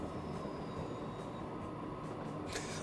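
A freight train rolls along in the Transport Fever 2 video game, a dense continuous rumble of wheels on track with faint high squeals, steady and close, with no voices.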